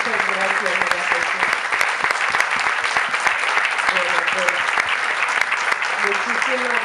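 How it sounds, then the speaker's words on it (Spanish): Audience applause at a book presentation at the Las Palmas de Gran Canaria book fair, sustained dense clapping from a crowd, loud and steady throughout, with voices speaking over it. "Te aplaudo porque..."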